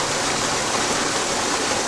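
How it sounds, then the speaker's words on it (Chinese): Steady, dense roar of a waterfall in a mountain valley at the Inunaki mountain temple, a continuous broadband rush of falling water heard close and loud with no pauses and no voices. "咱们下到这个瀑布这个地方，下面来看看。"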